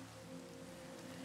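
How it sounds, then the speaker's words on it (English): Rain falls steadily in the Minecraft video game, a faint, even hiss of drops with a low steady hum beneath, no voices. "It started raining?"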